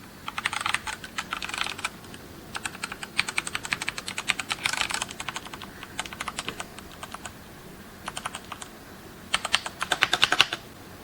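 Rapid clacky keystrokes on a mechanical keyboard come in bursts with short pauses, close and crisp throughout.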